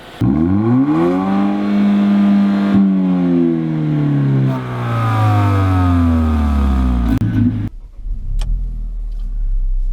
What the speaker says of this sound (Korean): 이 폴스타 버전은 역시 고성능 버전이기 때문에 시동 킬 때부터 좀 뻥 하고 소리가 나죠